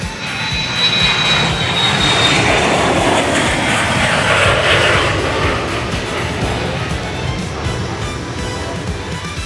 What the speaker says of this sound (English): There's also another Delta aircraft over there.